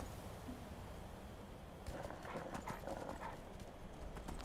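Horse hooves clip-clop in Skyrim, a soft steady gait that grows into clearer, slightly louder hoofbeats partway through, faint overall.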